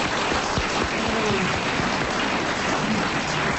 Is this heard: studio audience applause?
yes